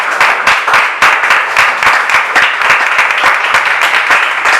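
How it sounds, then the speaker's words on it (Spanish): Congregation applauding during a church service, loud, steady clapping filling the room, with a few sharper individual claps standing out in a continuous burst. "Dale un aplauso al Señor."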